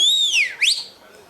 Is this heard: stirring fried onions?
no